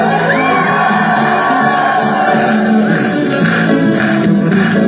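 A church congregation raises a continuous, loud crowd roar of joyful shouts, whoops and cheers that fills the whole stretch without pause.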